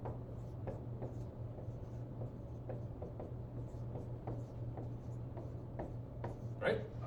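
Chalk or marker writing the del operator on a board during a lecture on divergence and curl, a steady run of short scratchy strokes over a constant hum, with faint room noise and no clear talk.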